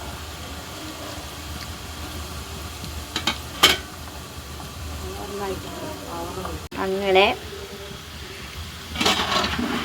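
Jackfruit chips frying in hot oil give a steady, moderate sizzle beneath intermittent talking, with a few sharper bursts of bubbling and clatter.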